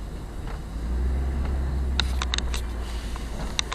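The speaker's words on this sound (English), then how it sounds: "Driving Around Hunts Point at Night" A car driving at night around Hunts Point in the Bronx, with a steady low engine and road rumble from inside the vehicle and a few faint clicks or ticks.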